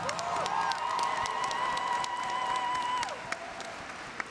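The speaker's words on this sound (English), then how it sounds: "let's give these dynamic professionals a well-deserved round of applause" A crowd at a 2019 high school graduation ceremony applauds faculty and staff, sustained clapping with a high tonal whine over it, tapering to a few scattered claps at the end.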